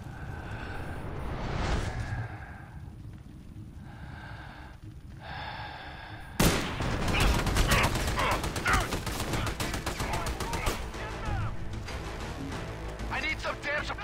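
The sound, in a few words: gunfire in the video game Army of Two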